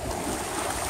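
Waves washing onto a beach in Negril, Jamaica, a steady broadband rush of surf and water heard close and continuous, with no talking.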